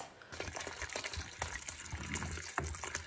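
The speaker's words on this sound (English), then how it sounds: "Now I'm gonna pour in the entire bottle of wine" A whole bottle of red wine pours steadily into a sangria mix for about three seconds, a continuous close gurgling splash with no talking.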